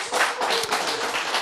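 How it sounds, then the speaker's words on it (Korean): Audience clapping at a lecture on genes and cancer, a short burst of scattered applause from a crowd, fairly close and steady for about a second and a half. "여러분이 보면 박수를 치시는 분이 있고 안 치시는 분이 있고"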